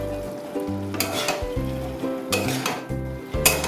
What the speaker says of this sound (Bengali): খুব ভালো করে মোচার সঙ্গে ডালের বড়াটা আমি মিক্সড করে দিচ্ছি।